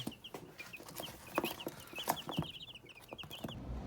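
A steady stream of high peeps from Lohmann Brown chicks mixed with soft clucking, close up, with scattered knocks and rustling underneath.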